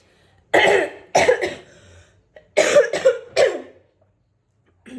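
Repeated loud, close coughs in clusters, two bursts, a pause, then two more, with quiet gaps between and another starting at the end.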